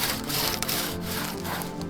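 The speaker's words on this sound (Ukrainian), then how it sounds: "Заготовлятимемо матеріал за допомогою дворучної пилки дружба. Підрізаємо колоду до необхідної довжини." A two-man crosscut hand saw rasps steadily through a log, close and loud, with continuous rough wooden rubbing strokes and no talking.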